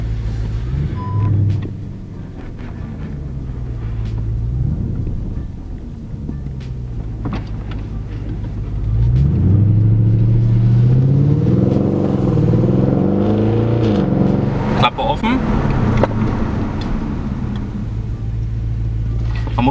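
An Audi RS5 (8T) fitted with an upgraded flap exhaust system idles with a deep burbling rumble, then the engine note swells as it pulls away, staying loud and close throughout with a few mechanical clicks.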